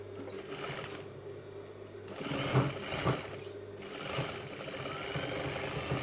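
A sewing machine stitches a point seam on a velvet jacket, its motor running in a fast, even whir. It runs in bursts separated by short pauses.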